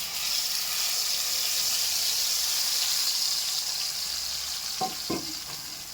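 A water-soaked paste of turmeric, ginger and other spices sizzles hard in hot oil for a jackfruit Manchurian, making a loud steady hiss throughout, with two quick knocks of a utensil near the end.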